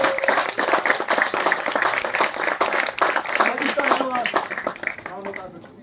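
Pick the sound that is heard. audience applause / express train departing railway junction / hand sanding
audience applause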